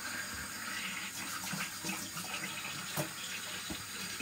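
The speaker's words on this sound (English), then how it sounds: "Pop that under there, under running water." Tap water runs steadily into a sink for rinsing during black-and-white film processing, a constant close splashing rush with a few small knocks.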